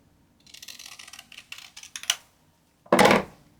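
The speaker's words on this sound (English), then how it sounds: "you can take your scissors and just trim it" Scissors snip and trim paper from a 12x12 paper pad for junk journal ephemera, a run of short crisp cuts ending in a louder rustle near the close.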